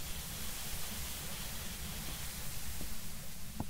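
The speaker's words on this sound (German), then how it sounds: "gerade war dieses weiße Rauschen noch nicht so laut" Steady hiss of white-noise static from the ghost-hunting video game Phasmophobia, a continuous even rush filling the whole stretch with a low rumble underneath and a couple of faint clicks near the end.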